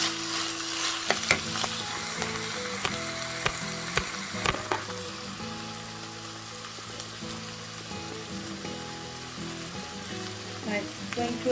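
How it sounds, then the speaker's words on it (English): Onions and capsicums frying in a pan over low heat for chicken almond, a steady sizzle broken by sharp spatula taps and scrapes early on, then calmer stirring. "And then we are going to add the onions and the capsicums"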